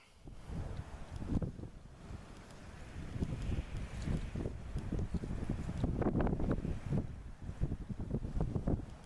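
Gusty wind buffets an outdoor microphone, with steady low rumble and louder surges throughout, recorded at a shooting range during a Marlin 336 lever-action rifle review; brief quiet voices may sit beneath the wind.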